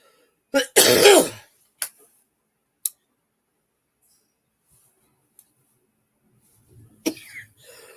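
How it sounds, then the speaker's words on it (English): A single burst of harsh post-COVID coughing near the mic, then a few short throat-clearing sounds and scattered faint noises in otherwise near silence. "I have these coughing spells every so often as a result of COVID"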